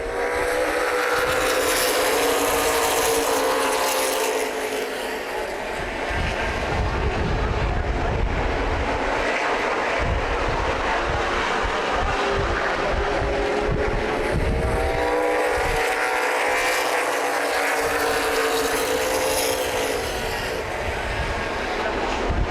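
Race cars in a CRA Super Series event at Columbus Motor Speedway roar around the oval under green-flag racing, engines swelling and fading as the pack passes, loud and continuous from a distance with no clear talk.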